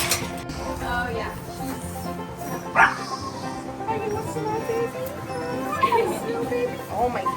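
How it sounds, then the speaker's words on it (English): A dog gives a few short barks and yips at a farm, moderately close, with someone talking over and between them. "What are you barking at?"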